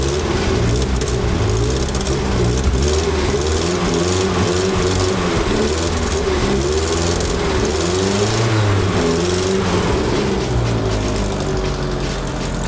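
A 1973 Triumph Spitfire engine idles hot while running too rich, holding a steady, loud, close rumble with a throbbing low-pitched beat and no talk over it.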